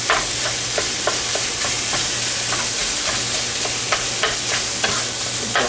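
Ground beef fries with onions and seasonings in a pan while a utensil stirs it, producing a steady loud sizzle broken by repeated scraping strokes against the pan.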